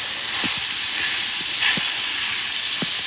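Food browns in a hot pan on a stove over medium heat, giving a loud, steady sizzle and hiss with a few soft clicks and pops.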